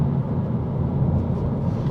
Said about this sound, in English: The tyre noise is also something that stands out a little more, because again, there's no engine sound